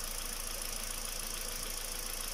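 A Kia Rio engine idles during a coolant replacement, a faint steady mechanical hum with light ticking knock, continuous and unchanging over a couple of seconds.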